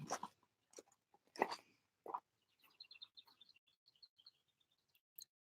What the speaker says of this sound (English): don't know if you can hear the birds